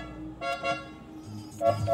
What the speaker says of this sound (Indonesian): tiba-tiba dari belakang Puput yang berboncengan dengan Mustafa berteriak sambil membunyikan